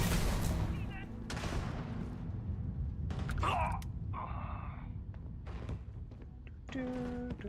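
A shotgun fires in the video game Starfield: several loud, sharp blasts with booming tails, spaced irregularly and mixed with other in-game effects and chimes.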